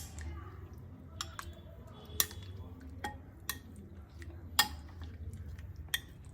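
Chicken pieces are stirred in a bowl with a lemon juice and soy sauce marinade. Soft, irregular clinks and taps of utensil against dish sound quietly over a low background rumble.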